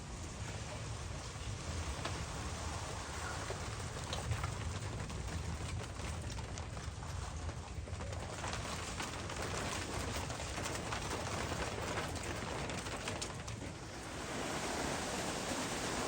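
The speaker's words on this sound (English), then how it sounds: "I'm just sitting out here watching the rain." Steady rain hisses down without a break as a storm approaches, a dense, even wash of patter that stays constant throughout.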